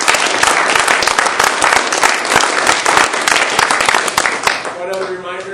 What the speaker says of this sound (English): If you do, give them a round of applause.